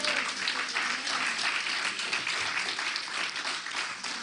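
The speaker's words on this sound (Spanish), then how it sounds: "Los que se gozan le dan un aplauso al Señor." A church congregation claps for the Lord in a sustained, even round of applause that fills the room, many hands together at a steady level throughout.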